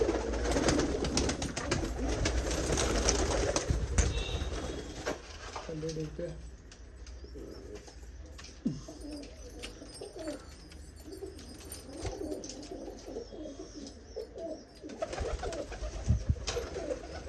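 Pigeons coo in a loft among new young birds and a golden pigeon, a steady low murmur of calls running throughout beneath frequent talk from a man close by.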